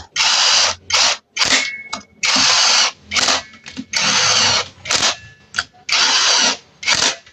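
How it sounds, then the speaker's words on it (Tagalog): Pneumatic impact wrench set to low power tightening clutch-side assembly bolts on a KTM Duke 390 motorcycle, firing in repeated loud bursts of about half a second to a second with short pauses between. "ilagay nyo lang sa small yung lakas ng yung impact para hindi mapersa"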